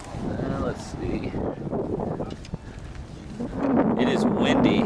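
Gusting wind on the Appalachian Trail in Georgia buffets the microphone with a steady low rumble that swells louder toward the end; no clear speech comes through.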